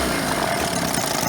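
A Chrysler outboard motor mounted on an inflatable boat runs steadily at a low idle, a faint continuous drone with no voices over it.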